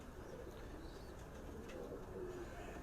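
Pigeons coo softly in a loft, low and somewhat distant beneath a steady wash of background noise, with a few faint chirps and no voices.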